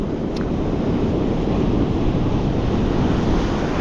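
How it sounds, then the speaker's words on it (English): Ocean waves roll onto a California surf-fishing beach in a constant loud roar of surf, with wind rumbling across the microphone and no talking. "The waves are rolling in nice."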